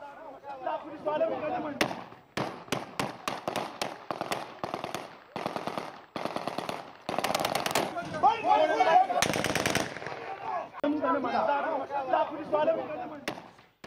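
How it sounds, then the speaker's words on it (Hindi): Heavy gunfire at a polling station during elections, with rapid bursts of sharp shots and automatic fire repeating across the whole span, loud and close, mixed with shouting and voices. "शदीद फायरिंग का सिलसिला यहाँ पर जारी रहा"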